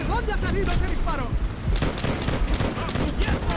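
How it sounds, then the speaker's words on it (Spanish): Rapid bursts of gunfire from the video game Call of Duty: World at War crackle throughout, dense and loud, with shouting voices over the shooting. "¿De dónde ha salido ese disparo?"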